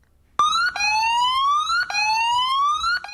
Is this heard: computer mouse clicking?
no